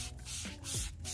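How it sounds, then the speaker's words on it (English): A hand spray bottle mists water onto a Mitsubishi Eclipse GSX fender before wet sanding, two or three short hissing bursts close by. "I gotta take this water bottle, spray down the entire fender"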